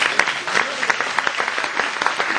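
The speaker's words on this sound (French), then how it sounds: "On applaudit bien fort." Short burst of applause from a small group closing out a birthday tour, claps dense and fairly close, with some voices mixed in.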